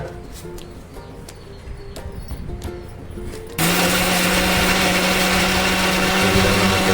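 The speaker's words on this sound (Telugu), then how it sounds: "మిక్సీ జార్లో వేయించిన పల్లీలు పచ్చిమిర్చి కొబ్బెర కొత్తిమీర కరివేపాకు వేసి మెత్తగా గ్రైండ్ చేసుకోవాలి" A mixie jar grinds roasted peanuts, green chillies, coconut, coriander and curry leaves, starting abruptly partway through after quieter kitchen clatter, then a loud, steady motor whine with a continuous rough grinding roar.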